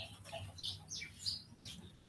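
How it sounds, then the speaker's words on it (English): Birds outdoors give scattered faint chirps and tweets, several short calls in an irregular rhythm, distant and soft over low background rumble. "birds are making weird noises out here"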